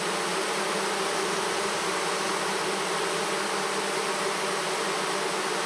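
Bees fanning at a hive kept inside a bedroom make a dense, steady hum that holds at a constant loud level from start to finish, with no voices.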